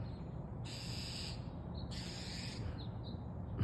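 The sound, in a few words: bird hollering, calling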